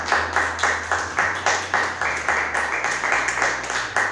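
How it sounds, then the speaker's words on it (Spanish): A church congregation claps in a steady rhythmic beat, with loud, regular hand claps filling the room and a faint low hum underneath. "Denle un aplauso al Señor si está recibiendo la palabra"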